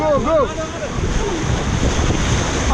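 Rushing river rapids surge around a raft in a steady roar with heavy wind buffeting the microphone, and a few short shouts or whistles rise briefly at the start.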